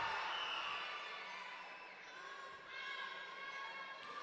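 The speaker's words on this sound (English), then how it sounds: "The Anklayer chant starting out." Arena crowd at a basketball event chanting and cheering for the player Anklayer, a broad continuous roar of many voices that swells slightly toward the end, with no clear words heard.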